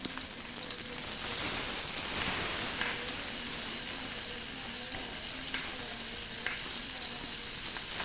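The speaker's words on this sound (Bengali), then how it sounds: "এবারে এর মধ্যে আমি মাছের মাথার টুকরোগুলোকে একদম লাল লাল করে ভেজে তুলে নেব।" Pieces of fish head fry in hot mustard oil, giving a steady, close sizzle and crackle that holds at an even level throughout, with no talking.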